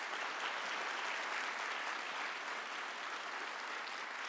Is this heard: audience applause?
yes